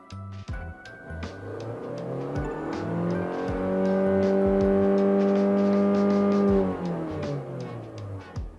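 A Lexus RX engine revs to 6,000 RPM, holds a high steady whine for a few seconds, then drops back, heard muffled from inside the cabin with windows up.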